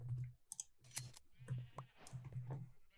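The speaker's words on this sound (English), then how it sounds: "So my idea is I want to shear a red sheep." Sheep being sheared in Minecraft: short game bleats repeat several times, each followed by quick snipping clicks, fairly quiet and alone.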